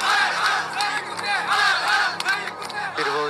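A large crowd of rioters shouts and chants in hatred toward a Christian neighborhood, many voices merging into loud, surging cries that rise and fall continuously.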